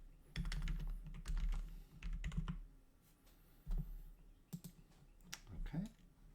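Computer keyboard keys tapped in short bursts while a file name is typed during image preparation for displacement in Rhino3D, close and fairly quiet, with a low hum underneath.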